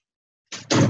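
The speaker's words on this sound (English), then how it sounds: "My puppy's, she'll knock on my door until I let her in." A puppy knocks against a door: silence, then a brief thump followed by a louder, fuller knocking thud close by, with no talk.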